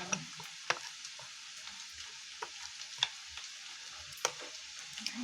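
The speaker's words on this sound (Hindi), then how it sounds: "रेड चिली और धनिया, और हम इसको अच्छी तरह से मिक्स करेंगे" Red chili and coriander being mixed in a frying pan for an egg chingari curry, a soft steady sizzle with scattered spoon scrapes and clicks against the pan, fairly quiet and close, with no voices.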